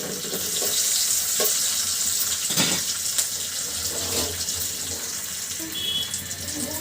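A split bay leaf frying in hot oil in a home kitchen, a soft continuous sizzle with scattered clinks and brief stirring scrapes, fairly quiet throughout.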